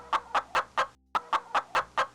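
A man imitates a chicken clucking: a run of about nine close, loud, rhythmic cluck-like vocal bursts with one short pause midway.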